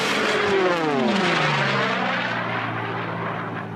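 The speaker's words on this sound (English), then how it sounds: "hear the difference between those massive engines in the Sea Furies and the engine in the P51" Sea Fury and P-51 racing aircraft roar past at Reno air races, a loud close propeller-engine pass with a falling Doppler pitch as they sweep by, then a steady fading drone.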